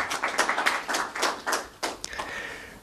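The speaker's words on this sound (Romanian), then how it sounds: "Să-l aplaudăm mai întâi, că e aici de față, la 65 de ani." A small audience at a literary gathering honouring a Romanian essayist and critic on his 65th birthday claps in a brief, fairly faint patter of separate hand claps that quickly dies away.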